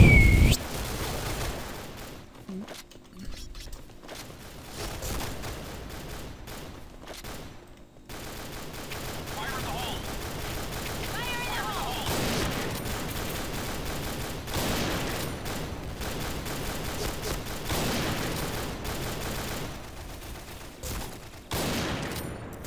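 Assault rifle gunfire in the shooter game Point Blank comes as repeated rapid bursts of automatic fire, loud and close, running almost continuously with brief pauses and no talking over it.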